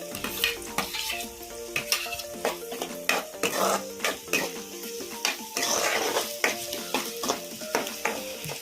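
Finely chopped onions sizzle and fry in about four spoons of hot oil while a utensil stirs and scrapes the pan in a steady clatter, close and continuous with no talking.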